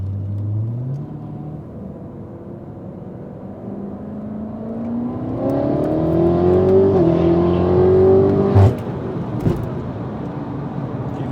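A turbocharged 1000hp BMW car pulls hard under acceleration, its engine note rising steadily over several seconds to a loud peak, then a sharp jolt as the transmission jerks; no talking.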